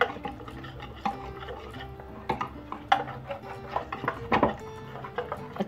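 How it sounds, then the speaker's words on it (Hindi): A spoon stirring cornflour in a bowl, with soft scraping and light clinks at irregular intervals, close and quiet, with a low steady hum in the background. "अब मैं इसको मिक्स करूँगी"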